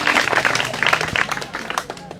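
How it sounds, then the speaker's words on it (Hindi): An audience at a village event claps for the NREGA team, a brief burst of scattered hand claps that thins out quickly, with some voices mixed in. "आप जोरदार तालियां उनके लिए और उनके नरेगा की पूरी टीम के लिए बजा सकते हैं"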